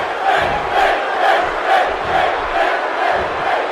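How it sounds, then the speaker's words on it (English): A wrestling arena crowd in the WWE 2K18 video game chants in a steady rhythmic roar, its pulsing swells repeating about every half second and filling the whole stretch with no commentary over it. "you can hear the crowd chanting for Finn Balor"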